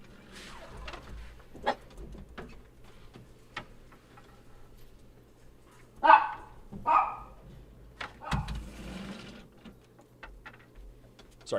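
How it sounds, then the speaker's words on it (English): Dogs barking indoors in the background, a few scattered sharp barks at irregular intervals against a quiet room with faint ticking, fairly distant and not loud. "Dogs are freaking out."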